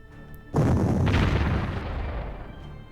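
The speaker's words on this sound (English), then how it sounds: "We have enough artillery here to kind of decimate them" Artillery bombardment in the Panzer Corps strategy game set in the Afrika Korps Arabia campaign: after a quiet moment, a sudden heavy boom erupts, followed by a second blast and a long, rumbling decay, close and loud with no speech.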